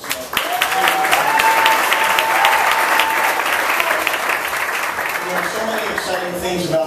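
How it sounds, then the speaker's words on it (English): An audience at a ceremony gives itself a round of applause, a loud sustained crowd clapping with voices calling out over it throughout. "if we could all give ourselves a round of applause"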